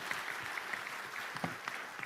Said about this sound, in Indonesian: Tepuk tangan buat panitianya.